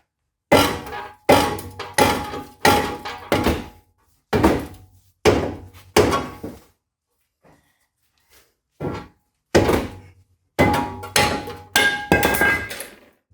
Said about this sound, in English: now you're just going to hit this with a rubber mallet from the back